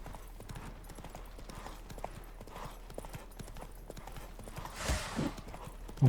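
A horse gallops in The Witcher 3: Wild Hunt, with a rapid, steady clip-clop of hooves running throughout, moderately near, and a brief louder rustle toward the end.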